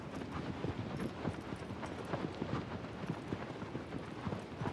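Galloping horse hooves in the video game Shadow of the Colossus land as steady, rapid clip-clop beats. They are fairly faint and sit under a light wash of wind noise, with no voice over them.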